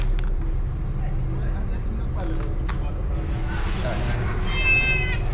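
A kitten being rescued from a hole meows clearly near the end, a couple of high, close cries over a steady low hum, with people talking nearby.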